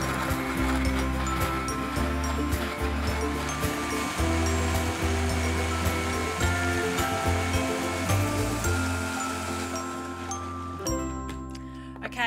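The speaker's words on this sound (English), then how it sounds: "Lid goes on and I'm going to blend it until it's really smooth." A blender whirs a mango smoothie with lime juice for a long, loud, steady run, with a rough churning roar throughout and a short clatter as it stops near the end.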